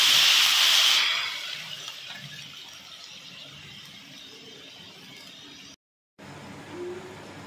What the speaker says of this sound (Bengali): এবারে কিন্তু আমি এই সেদ্ধ করে চিকেনের জলটা দিয়ে দিচ্ছি।